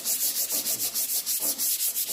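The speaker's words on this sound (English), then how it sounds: "I'm just going to scuff over the surface of this." A gray Surf Prep sanding pad scuffs the clear coat on a sunflower-finished wooden tea cart in quick, even back-and-forth strokes, about six per second, close and continuous with no voices.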